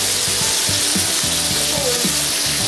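A New Zealand ribeye steak sears in a hot pan after being flipped, a loud constant sizzle, with a low droning background tone running beneath it throughout.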